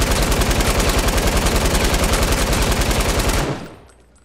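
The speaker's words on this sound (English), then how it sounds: "This is like the old version of the hand cannon." Rapid automatic gunfire from a hand cannon weapon in a video game, a loud, dense stream of evenly spaced shots that cuts off after about three and a half seconds and leaves a fading tail.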